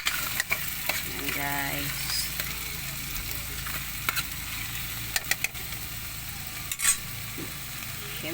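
Soy sauce sizzles as it hits a snack frying in a pan, a steady crackling hiss with occasional stirring clinks and scrapes, and a voice speaks briefly near the end.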